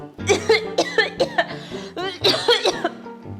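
A person coughs repeatedly in short bursts, close and clear, the coughs mixed with throaty, voiced sounds.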